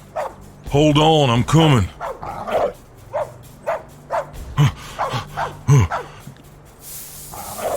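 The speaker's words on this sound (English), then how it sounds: "That dog's chasing someone." A dog barks loudly and repeatedly while chasing someone, a burst of sharp barks followed by a run of rhythmic yips and woofs, with someone speaking briefly over it.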